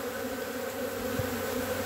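A swarm of honey bees moving into a backyard beehive makes a dense, continuous buzzing drone, close and steady throughout, with no talking.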